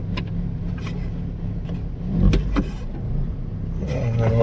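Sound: car engine straining to climb uphill with full throttle

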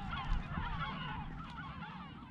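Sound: seagulls calling on an island

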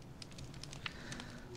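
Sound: fireplace fire crackling in Minecraft, video game

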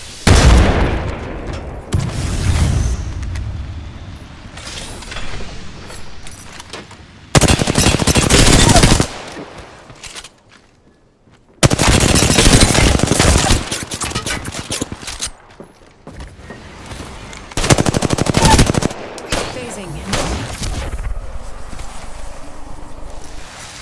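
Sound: gunfire in a firefight, from the video game Apex Legends

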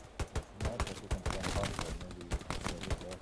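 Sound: gunfire in the video game Hell Let Loose

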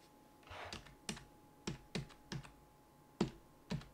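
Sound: typing on a Razer RGB computer keyboard

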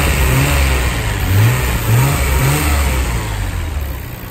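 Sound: Nissan GTR R32 engine revving

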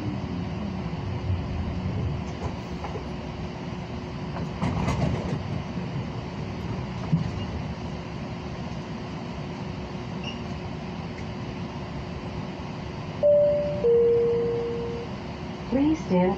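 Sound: CATS LYNX Siemens S light rail train

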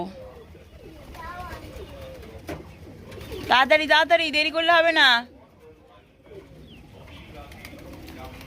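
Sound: pigeons cooing while eating scattered rice

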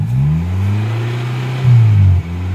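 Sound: car being driven

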